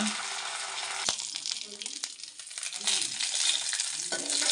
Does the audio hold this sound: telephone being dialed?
no